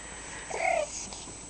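A house cat gives a single short meow, fairly close and clear, over a quiet room background.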